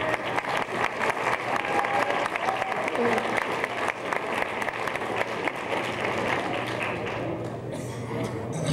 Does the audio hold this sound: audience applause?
yes